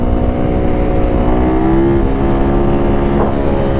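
A Yamaha YZ450F motorcycle engine holds fifth gear during a wheelie, a loud, steady droning roar with strong tonal harmonics and a slight pitch waver, backed by constant wind rush.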